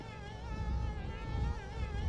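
A steady, droning buzz of bees in the video game Conker's Bad Fur Day hums continuously, wavering slightly in pitch, with a low rumbling background underneath.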